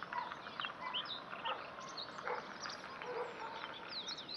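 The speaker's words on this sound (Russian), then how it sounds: "Птички поют." Birds singing in a garden on a morning, several small chirps and short tweeting phrases scattered over a soft outdoor background, faint and somewhat distant.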